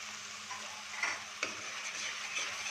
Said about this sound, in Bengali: এবারে আমার মশলাটা ভালো করে ভাজা হয়ে গেছে, তেল ছাড়তে শুরু করেছে।